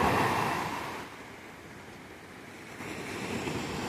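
Winter sea waves break and wash onto the shore, with icicles on the coast. Close, broad surf rises loudly, eases into a softer hiss, then swells again, with some wind noise on the microphone and no voices.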